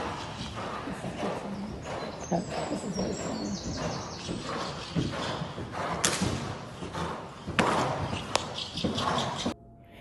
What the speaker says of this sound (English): You could literally hear the horse's skin being smacked.